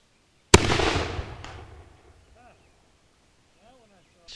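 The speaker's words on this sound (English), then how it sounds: "If you've never been around a cannon, it has this deep concussion" A replica 18th-century howitzer cannon fires a single sharp, very loud blast, followed by a booming decay that fades over about a second and a half into quiet outdoor air.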